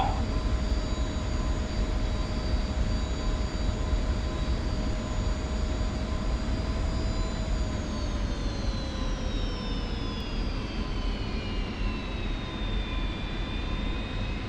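F-86F Sabre jet taxiing in the DCS flight simulator, a steady loud turbine whine with a rising-then-falling tone over a constant low engine rumble, continuous and close throughout.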